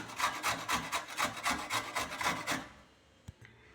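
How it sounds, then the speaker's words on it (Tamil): A peeled carrot is rubbed quickly against a grater in about a dozen close, even rasping strokes, then the scraping stops and a single faint knock follows. "தோல் சிவன கேரட்டை வந்து நல்லா துருவி எடுத்துடலாம்"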